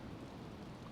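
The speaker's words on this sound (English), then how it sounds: "Well, it's raining." Steady rain falls in the survival video game DayZ as a dense, even, continuous hiss with a low rumbling undertone, fairly loud and unbroken for about a second, with no voices.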